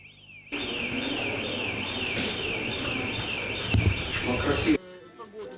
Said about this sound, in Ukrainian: кожні декілька хвилин сигналізація